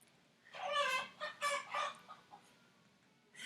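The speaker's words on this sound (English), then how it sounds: "I think roosters are fighting in the background." Roosters squabble in the background, a run of agitated clucks and squawks at moderate distance, clustered in the first two seconds and then a lone cry at the end, with no talk.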